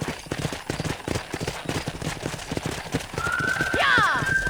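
Horse hooves clip-clop steadily in a Western ride from the Red Dead Redemption video game, the rhythmic footfalls running under music and game sounds with a bright whinny-like tone near the end.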